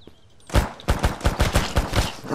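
Pistol fire in the Mist Survival video game: a rapid string of about eight sharp, loud shots at an uneven pace, with no talking.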